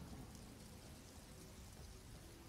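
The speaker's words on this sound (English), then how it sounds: "Ooh, rain." Rain in modded Skyrim Remastered makes a very faint, steady hiss of drops in the background, continuous and low in level, with no voices.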